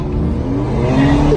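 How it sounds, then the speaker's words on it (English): Engine revving from a Ford Mustang EcoBoost on the street, a loud, steady, close drone that holds and rises slightly over a second and a half, with no voices. "Mustang started revving at him first"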